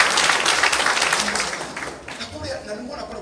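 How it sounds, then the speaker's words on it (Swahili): An audience at a gathering claps loudly in a dense, continuous burst of applause that eases slightly and then carries on, with voices faintly mixed in. "Tupigie makofi mazuri"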